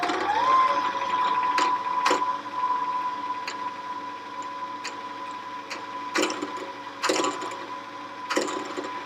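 A Janome HD5050 sewing machine winding a bobbin hums steadily at an even speed, close and fairly loud, with a few light clicks and taps scattered over the whir and no talking.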